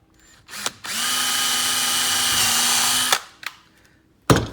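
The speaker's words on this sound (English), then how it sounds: "then we'll drill a pilot hole here" A power drill bores a pilot hole in a plastic water bottle cap with one steady whirring run of about two seconds, framed by sharp clicks and knocks before and after, close and loud.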